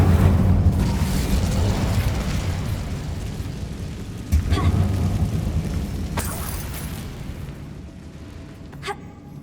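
Fiery spell blasts of Confringo and Incendio in the video game Hogwarts Legacy, cast in an old closed mine: a rumbling, sustained roar with sharp bursts around the midpoint and near the end, loud and close.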